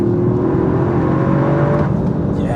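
A Toyota GR Yaris engine pulls hard from around 4,000 rpm with a steady, loud in-cabin drone and a rising tone near the end of the run.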